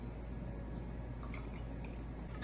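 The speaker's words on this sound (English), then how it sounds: "And then also a third of a cup of chicken stock." Chicken stock pours and drips into a pot in a kitchen, producing a soft, steady liquid trickle with a few faint splashes close by.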